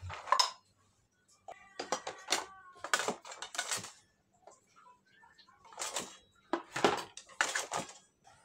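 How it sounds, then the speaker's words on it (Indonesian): Washed plates, cutlery and utensils being set into a kitchen dish rack, with bursts of clattering, clinking ceramic and metal close by, separated by short pauses and a few faint rattles. "setelah nyuci selesai langsung aja ini saya beresin ke tempat piringnya"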